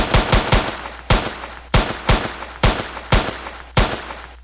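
A pygame shooting game fires a softened gunshot sound effect: sharp, close bangs come in quick clusters and then single spaced shots, about ten in all, each decaying briefly.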